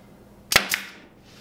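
A hand staple gun drives half-inch staples into wood, giving two sharp snapping shots in quick succession, close and crisp, with a short ring after each.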